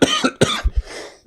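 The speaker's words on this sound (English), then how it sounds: "I've had this persistent cough for a while" Several sharp coughs come in quick succession, close and loud, followed by a raspy breathy trail.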